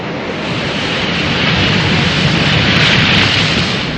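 Ocean waves of the deep blue sea make a loud, steady rushing roar that swells slightly midway, broad and unbroken, with no voices over it.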